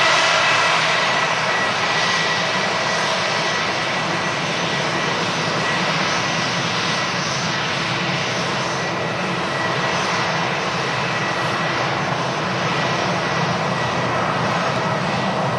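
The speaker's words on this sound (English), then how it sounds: "This EasyJet vacating from Paris, Orly." EasyJet airliner at Manchester Airport, a loud continuous jet engine roar that holds steady and dense for the whole stretch with no voices.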